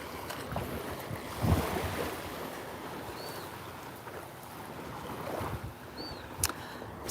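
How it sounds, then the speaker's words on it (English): Bare feet slosh through shallow water outdoors in nature, soft splashing steps spread over several seconds amid wind and surf-like background noise, with no talking. "this is the bonus of walking with no shoes on today, guys. I get to walk through the water."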